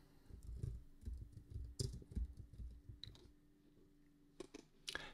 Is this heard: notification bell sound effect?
no